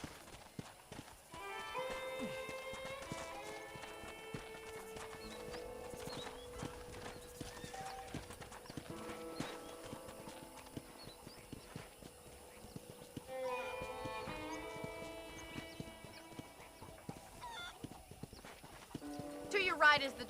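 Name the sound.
horse hooves clip-clopping, video game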